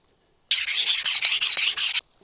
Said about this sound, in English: So let's put up some pressure here. Now moving on to a higher grit stone.